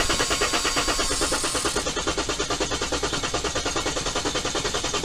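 A diesel engine with glow plugs cranks steadily without catching, a fast rhythmic churning of starter and compression pulses that runs close and loud throughout.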